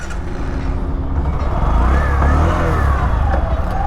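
A Bajaj Platina 110 ABS, a 110 cc BS6 motorcycle, idles and then revs up as a test ride begins, its steady engine drone close and loud with a rising pitch partway through.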